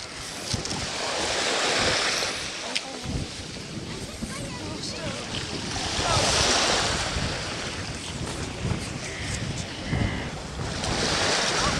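Strong wind buffets the microphone in continuous gusts on the Black Sea coast at Anapa in January, with a roaring, surf-like wash throughout and no clear voices.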